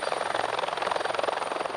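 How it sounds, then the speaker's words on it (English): Military helicopters flying over Canada's far north toward a mountaintop, a steady loud rotor thump with fast chopping pulses and engine whine throughout, no voices. "military helicopters are bound for a mountaintop"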